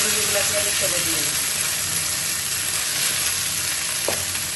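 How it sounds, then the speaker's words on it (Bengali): Kunduli fritters with onions frying in hot oil in a pan: a steady, close sizzle runs throughout, with a faint voice briefly at the start and a small clink near the end. "আমি আর আমার এক বোন মিলে এই কুন্ডুলি ভাজা করছি"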